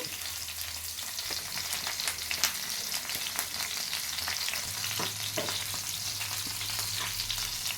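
Chopped ginger and garlic fry in a little oil in a pan for cauliflower curry, a steady close crackling sizzle with occasional stirring scrapes and pops throughout, no talking.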